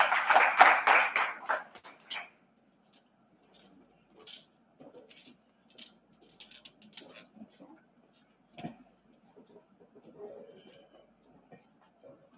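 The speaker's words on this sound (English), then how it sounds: "If you can just give them a round of applause as they come to the stage" A short burst of audience applause at a conference award ceremony opens strongly and dies away within about two seconds, leaving a quiet hall with occasional small knocks and shuffles.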